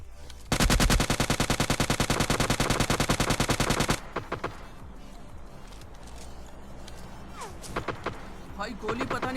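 Rapid automatic gunfire in the shooter game PUBG Lite, a loud dense burst of shots lasting about three and a half seconds, followed by scattered fainter shots and clatter.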